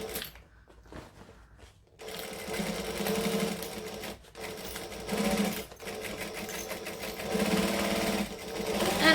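Sewing machine backstitching through a fabric hobo bag: after a couple of seconds of faint handling, a rapid mechanical clatter of stitching runs almost continuously, with short pauses, close and fairly loud.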